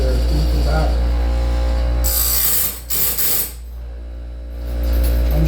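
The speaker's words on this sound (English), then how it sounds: "I'm sharpening these at 7 degrees. Or grinding the rake angle to 7 degrees." A sharpener grinds the teeth of a sawmill band saw blade in close, harsh buzzing passes that rise and drop over a constant motor hum, with a brief pause between strokes.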